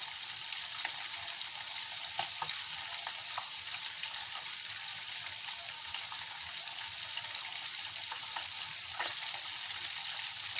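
Food fries in a pan until crisp, giving a quiet, continuous hissing sizzle with occasional faint pops, steady and unbroken throughout.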